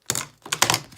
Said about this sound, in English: So I cut right along the edge.